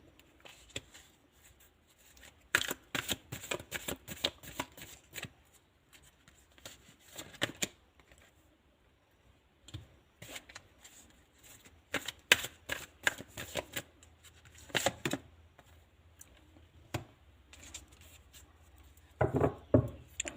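Tarot cards are shuffled before a reading, with rapid crisp riffling bursts and soft flicks and taps repeating in quick clusters, close and fairly quiet.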